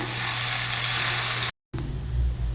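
Crushed ginger and garlic hitting hot oil and sizzling loudly and evenly, broken by a brief dropout, then frying on at a slightly lower hiss while preparing a fish pepper fry.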